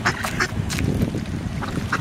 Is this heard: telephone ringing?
no